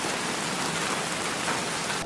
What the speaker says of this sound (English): Thunderstorm just like started raging.